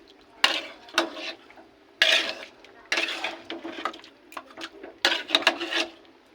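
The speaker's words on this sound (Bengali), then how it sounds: "আর এই জলটুকুনি দিয়ে দেবো, দিয়ে এটাকে কষাবো।" Chicken do pyaza stirred in a pan after water goes in, a close run of scraping, clattering spoon-against-pan strokes in irregular bursts, with soft sizzling between them.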